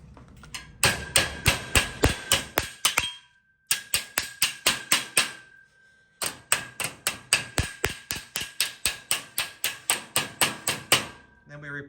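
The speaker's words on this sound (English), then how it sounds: "Now we'll take our hammer and we're going to knock this edge towards the tube" Hammer striking a metal edge toward a ConnecTube while building a rounded corner for an outdoor kitchen, sharp regular metallic blows in three quick bursts with short pauses between, close and clear, no talk.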